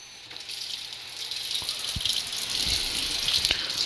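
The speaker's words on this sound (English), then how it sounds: "Okay, turn on the hot water." Hot water runs from a tap during gun-barrel cleaning, a steady rushing stream that grows louder, with a few sharp knocks and rattles from something handled under the flow.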